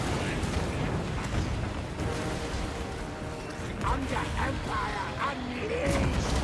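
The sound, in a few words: artillery bombardment in Total War: Warhammer 3 video game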